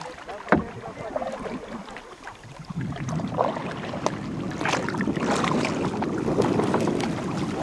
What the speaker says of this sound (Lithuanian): Kažkas čia sparčiai irkluojasi.